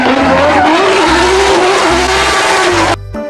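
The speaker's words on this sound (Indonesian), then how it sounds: "Wow, mobil balap teman." A loud race car sound plays from a toy race car, with a high, steady engine whine and rhythmic low pulses, ending in a sudden cutoff followed by a brief revving tail.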